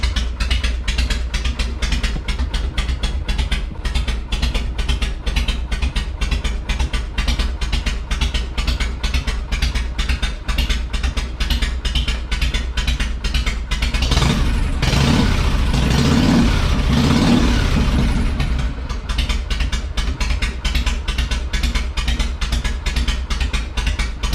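A Harley Shovelhead motorcycle engine, started after sitting for about a month, runs loud and close with a fast, steady mechanical chatter and a deep throb, briefly swelling louder midway before settling back.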